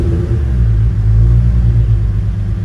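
A Toyota Supra MK4 engine, built for 1000 hp and running for its first start, gives a loud, deep, rumbling idle that swells briefly as the throttle is tapped, then settles back.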